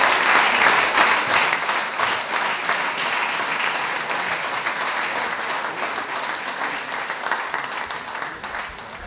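An indoor audience at an awards evening gives sustained, dense applause as taekwondo school performers come on, loud at first and then slowly easing.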